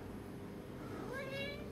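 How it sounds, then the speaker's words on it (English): A neighbour's cat meows inside a greenhouse full of succulents, a short rising wail near the end cutting through steady background noise. "You can probably hear him meowing."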